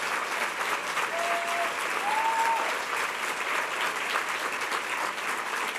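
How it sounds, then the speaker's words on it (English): A large conference audience on homelessness applauds steadily for several seconds, dense even clapping filling a hall, with a faint whistle or tone rising briefly in the middle. "They deserve a great round of applause for their work."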